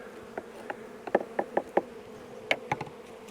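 Italian honey bees buzz at a hive entrance, with brief close passes of individual bees rising and fading over a soft, steady background hum.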